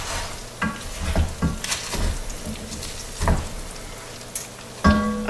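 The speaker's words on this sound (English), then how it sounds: "I just put like a tablespoon of olive oil in my Dutch oven, and I put a pork butt in it, and this has turned into like carnitas" Pork butt crisping in a spoonful of olive oil inside a Dutch oven, giving a steady close sizzle broken by several sharp stirring scrapes and clatters across the stretch, with no voices.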